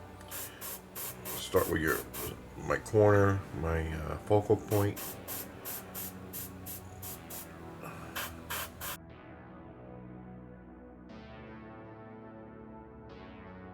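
Short bursts of aerosol spray paint hiss onto a miniature base to build a snow effect, repeated in quick pulses between and under a person talking close by.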